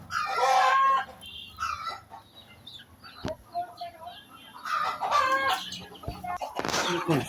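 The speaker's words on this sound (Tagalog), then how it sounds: "Makulit yung mga manok ha." Chickens of a native Bisaya breed cluck and crow in a yard being swept, with loud bursts near the start and end and scattered calls between, while a person talks in the background.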